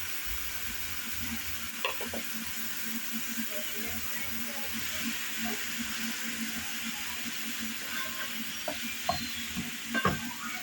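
A spiced leek filling for börek sizzles softly in a pan while a spoon stirs it, with occasional scraping clicks.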